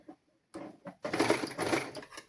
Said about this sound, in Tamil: இந்த மிஷினில் இதில் வந்து 4ஆம் நம்பரில் நீங்கள் விட்டிங்கன்னா கொஞ்சம் பெரிய நூலாக ஓடி தைக்கும்